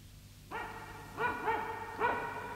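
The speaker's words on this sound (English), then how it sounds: "Midge could hear barking." A dog barks in a cartoon seaside scene, giving a sustained tonal call followed by three short, evenly spaced barks, moderately loud over a steady background hum.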